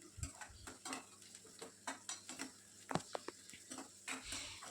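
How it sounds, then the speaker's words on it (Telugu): Sliced onions fry in a pan, a faint sizzle broken by repeated spatula scrapes and clinks against the pan in an uneven rhythm. "ఆనియన్స్ కొద్దిగా కలర్ చేంజ్ అయ్యేంత వరకు ఫ్రై చేసుకోవాలి వీటిని"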